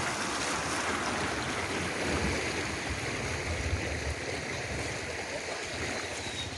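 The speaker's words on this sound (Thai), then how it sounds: "ดูความแรงของน้ำครับ" Floodwater has risen over a road, giving a steady, loud roar of strong rushing water with no change in level throughout and no voices.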